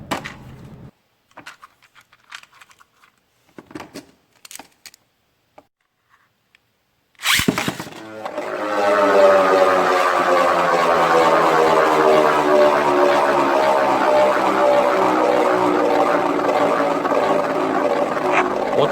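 Beyblade Burst tops with a Spriggan and Generate combo spin in a stadium, starting with a sharp launch and followed by a long, loud, steady whirring and scraping that continues to the end after a few earlier handling clicks.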